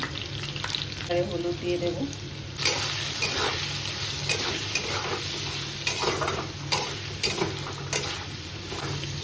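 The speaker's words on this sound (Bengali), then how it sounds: "তো বেশ দেখো আলুগুলো বেশ ভালো করে ভাজা হয়ে গেছে" Potatoes fry in hot oil in a home kitchen pan, a steady sizzle broken by repeated scraping stirs and clinks of the utensil; someone speaks briefly near the start over the cooking noise.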